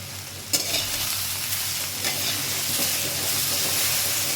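Eggplant with drumstick flowers, salt and turmeric fries in a pan, a brisk close sizzle opening with a sharp stirring scrape and continuing as a dense, steady crackle without speech.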